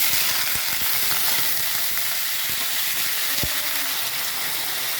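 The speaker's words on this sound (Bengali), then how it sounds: "তেল গরম হয়ে গেছে, আমি আলু দিচ্ছি" Potatoes, onions and chillies sizzle in hot white oil in a wok, a loud steady crackling fry with occasional sharp pops and stirring scrapes, close up and without any talk.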